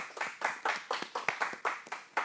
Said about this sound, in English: Clapping like Trump